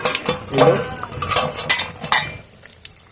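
Potato chops deep-fry in oil, close bubbling and sizzling mixed with brief scraping and clinks as the pieces are turned, fading toward the end.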